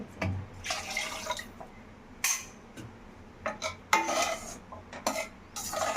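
Water is poured into a pot of egg biryani gravy with oil risen to the surface, then stirred with a metal spoon, giving uneven scraping clinks and sloshing over a steady background hiss.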